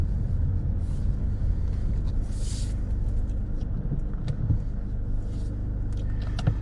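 A car on a driving test route in South Wigston idles and creeps in queued traffic near the traffic lights. A steady low engine rumble runs throughout, with a few faint clicks and thumps inside the cabin.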